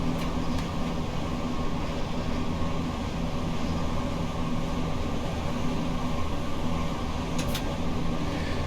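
A Southeastern high-speed electric train in Train Sim World accelerates with a steady, tonal electrical hum from its GTO thyristor traction gear over a constant rumbling roar. The sound is loud, continuous and close, with no talking.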